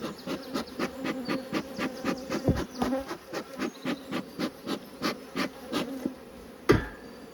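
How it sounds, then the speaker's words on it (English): Honey bees buzz in a dense, continuous drone from an opened hive, with regular knocking thumps pulsing through it as bees are knocked off, and one sharper knock near the end. "Try and knock all the bees off."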